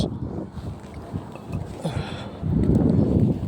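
Cold wind gusts outdoors in Kuwait, buffeting the microphone as a low, rumbling roar that surges louder in the last second, with faint background noise and no talking.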